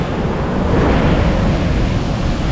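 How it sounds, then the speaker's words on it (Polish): Sea waves break on a Dominican Republic shore in a continuous loud roaring wash, with wind buffeting the microphone and no voices present. "Spójrzcie sobie, jak tutaj fale od morza fajnie wybiły"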